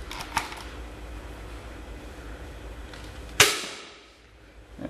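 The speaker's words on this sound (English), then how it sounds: "firing the white dart first" A modified Nerf Nitefinder blaster fires a single white dart with one sharp, close snap and a brief decaying rattle, set against a quiet room hum.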